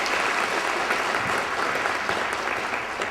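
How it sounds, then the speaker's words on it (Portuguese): A church congregation applauds during an evening service in Goiânia, Brazil, a full, steady roar of many hands clapping throughout, even and unbroken, with no voices on top. "dê uma salva de palmas para o Senhor Jesus pelos visitantes"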